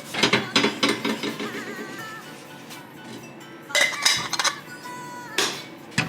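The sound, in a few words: metal V-band clamp being fitted and tightened on a turbo downpipe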